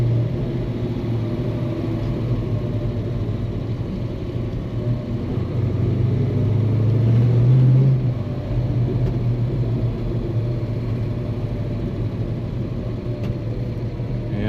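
A 1970 Ford Mustang Boss 302 V8 rumbles steadily from inside the car while driving through a small town, its deep engine note swelling briefly as it accelerates, then settling back to a cruise.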